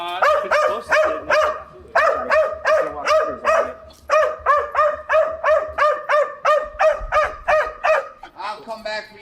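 A dog barks loudly and close by in a steady, insistent run of about twenty sharp barks, with brief pauses between bursts.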